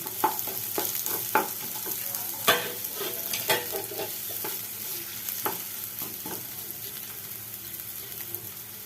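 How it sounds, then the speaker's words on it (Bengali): Steady sizzling of chopped onions frying in oil, with intermittent scraping and clinking as they are stirred around a pan, no voices. "আলু তোলার পর যে তেলটা থাকলো তার মধ্যে পেঁয়াজ কুচিগুলো আমি দিয়ে দেবো"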